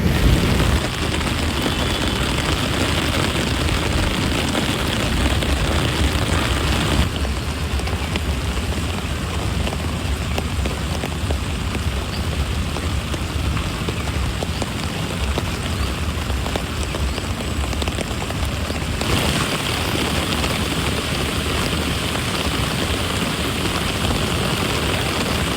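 Steady rain falling outside in a backyard, a continuous close hiss of drops on surfaces that shifts in intensity a couple of times across a long stretch, with no voices.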